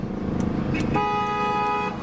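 Car horns honk in city traffic at an intersection in Yerevan, a short toot followed by a sustained loud blare over the steady rumble of engines nearby.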